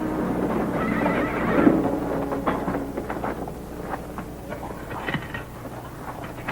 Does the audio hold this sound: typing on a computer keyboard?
no